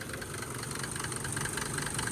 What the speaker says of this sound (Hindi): गाड़ी स्टार्ट है